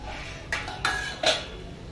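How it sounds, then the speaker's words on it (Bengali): Metal lid lifted off a cooking pot of simmering chickpeas and banana peels, giving a few sharp close clinks and a clatter over a low background hum. "ঢাকনাটা খুলে দেখবো এবারে।"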